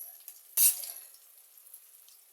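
Masala stirred and fried in a pan gives one brief scraping burst, then a faint, soft sizzle and light clatter in a quiet kitchen.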